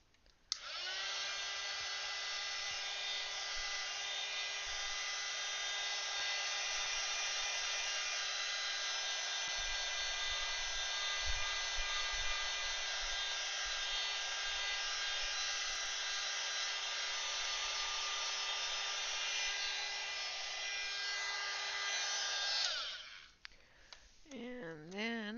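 A hair dryer drying a painted colouring page whirs as a close, steady, even whine for about twenty seconds, then switches off and winds down.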